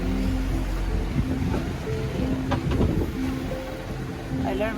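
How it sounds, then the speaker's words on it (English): Big ocean waves wash and roll around a sailboat on a windless day, a steady, loud churning roar that fills the whole stretch with occasional surging swells. "Almost out of the big waves after how long?"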